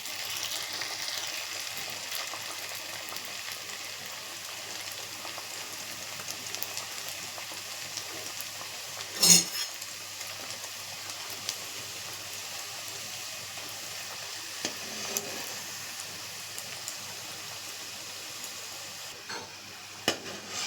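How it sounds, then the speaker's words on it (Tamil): Beetroot samosas deep frying in hot oil over a low flame, a steady close-up sizzle and crackle running throughout, with an occasional louder spatter or clink. "நான் ஒன்று ஒன்றா ரோல் பண்ணி வச்சுருந்த சமோசாவை போட்டு பொரித்து எடுத்துக்கிறேன்."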